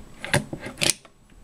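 Metallic clicks and rattles as a Geo 2 paintball gun's bolt firing system is pulled out, a few close, brief handling knocks over about a second.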